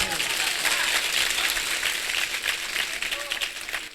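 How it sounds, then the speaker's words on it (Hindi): Audience at a Hindi comic poetry gathering claps in a dense, continuous wash for several seconds, fairly close and even, tapering slightly toward the end, with some voices mixed in. "तालियां कमजोर हैं।"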